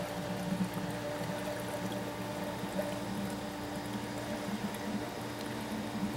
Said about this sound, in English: Adding water again to keep that water level as best we can just above that return T.